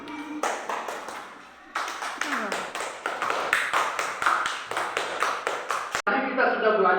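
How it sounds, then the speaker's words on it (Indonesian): Students clapping in a classroom during an Islamic religious education lesson, a rhythmic run of sharp hand claps near the microphone. Speech and other classroom sounds come before and after the clapping. "tepuk tangan dulu."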